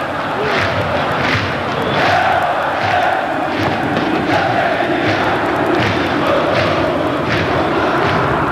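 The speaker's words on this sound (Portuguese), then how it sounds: "Canta a torcida rubro-negra." Flamengo supporters chant in a packed stadium during the 2006 Copa do Brasil final against Vasco da Gama, a loud continuous roar of many voices with rhythmic swells, and a broadcaster talks faintly over the crowd.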